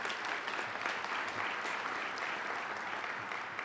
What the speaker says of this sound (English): So if everybody just kind of give them a round of applause.